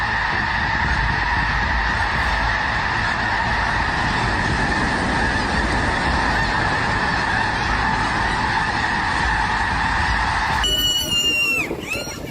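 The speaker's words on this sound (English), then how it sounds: "thousands of snow geese take to the skies" Thousands of snow geese take flight together in a dense, continuous chorus of honking calls that stays loud and unbroken, with a brief change in sound just before the end.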